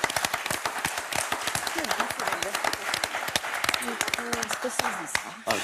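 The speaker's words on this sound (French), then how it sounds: "Allez, on vous applaudit très fort." Applause from a studio audience on a French live television show, sharp scattered claps mixed with voices talking over them throughout.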